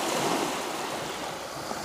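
Sea waves wash against the Crimean shore at Kacha in a steady, soft surf roar mixed with wind noise, fairly quiet and continuous with no voices.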